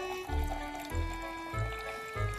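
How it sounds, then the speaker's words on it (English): Water poured from a jug into a glass, heard as a few short bursts of splashing and trickling, moderately close, with quiet pauses between pours and steady low background hum. "I'm gonna fill up this glass with some water."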